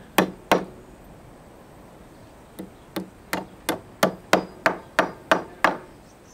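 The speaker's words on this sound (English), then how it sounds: "just nail down our straps onto our rafters" Hammer strikes driving nails through metal straps into timber pergola rafters outdoors: two quick blows, a pause, then a steady run of about ten evenly spaced, sharp, fairly close hits.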